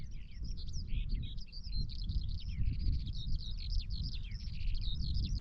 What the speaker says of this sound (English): Be quiet for a moment so you can hear the birds.